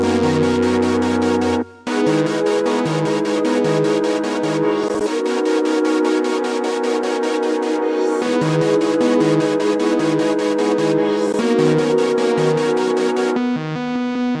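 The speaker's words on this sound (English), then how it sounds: "So all the stab chords and all the melodies and everything together" Synth stab chords and synth melodies from a trap beat play together, with repeated short chord hits over a steady pulsing pattern, loud and continuous with brief dropouts.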